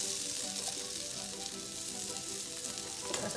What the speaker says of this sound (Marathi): हे दोन्हीकडून छान खरपूस भाजून घ्यायचं आहे